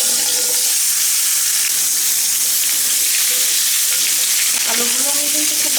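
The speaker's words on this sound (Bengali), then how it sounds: "আলুগুলো আমি কিন্তু খুব ভালো করে ভেজে নেব।" Potatoes frying in hot oil with cumin seeds and two bay leaves for a fish curry, a steady loud sizzle throughout with brief stirring scrapes near the end.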